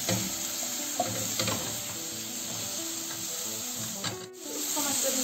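Minced beef, onion and tomato paste frying in oil in a pan, a steady hiss with occasional scraping of a utensil and clinks, close and continuous with no talking.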